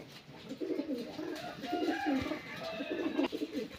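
Pigeons coo steadily in a loft where birds are kept for sale, the soft throaty calls overlapping in a continuous murmur at close range with no talk.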